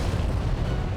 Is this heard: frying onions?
no